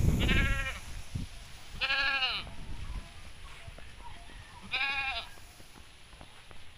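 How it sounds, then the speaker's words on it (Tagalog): A goat on a mountainside in Tanawan, Batangas, gives three separate wavering bleats, close and clear over quiet outdoor background noise. "May kambing pa."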